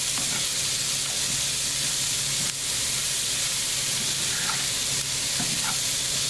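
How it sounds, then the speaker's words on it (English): Cabbage stir-frying in sesame seed oil with onion and garlic sizzles and hisses steadily up close, with faint clinks of stirring scattered through the constant frying noise. "stir fry it"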